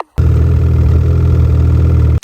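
A snowmobile engine with a failing fuel pump runs steadily and loud for about two seconds, a close, low, rough droning idle that starts and stops abruptly.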